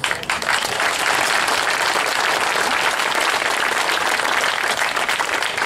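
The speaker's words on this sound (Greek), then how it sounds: "να έχουν το χειροκρότημά σας." Audience applause at a commemorative event for the liberation of Almyros, dense steady clapping from a large crowd that holds evenly for several seconds without talk.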